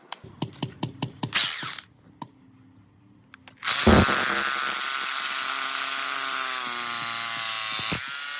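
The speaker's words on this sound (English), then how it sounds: "Then I'll drill the other screw through to the other side and tighten it up" A power drill drives a screw through a wooden batten, whirring in short bursts, then running in one long, loud sustained drive that winds down and stops, close by and without talk.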